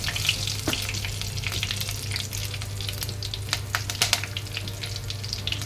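Fresh curry leaves and vadagam crackle as they fry in hot oil for karuvattu kuzhambu, a dried fish curry. A steady close sizzle runs throughout, broken by sharp pops and spatters, with a low constant hum beneath and no talking.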